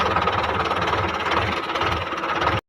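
A tractor engine runs steadily nearby, a loud continuous rumbling drone with a knocking, vibrating texture that holds without a break for nearly three seconds and then cuts off abruptly, with no talking.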